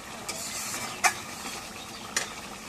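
Potatoes are stirred into frying goat meat in a pot for a home-cooked Bengali curry, giving a steady soft sizzle with a few sharp scraping stirs of the spoon against the pan.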